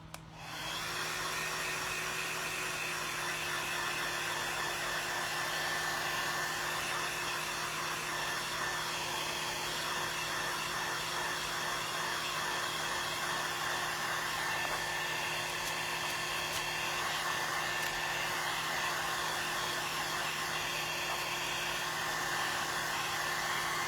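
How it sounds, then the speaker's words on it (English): A hair dryer drying a craft project runs at a steady, even whir for the whole stretch after a quick start-up, close and unbroken. "I'm going to go ahead and dry it again."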